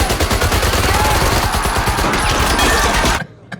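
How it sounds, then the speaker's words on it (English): Gunfire in a Tarantino film scene comes as a loud, dense burst of rapid shots with no break, then cuts off sharply into near silence at the end. "All the shooting."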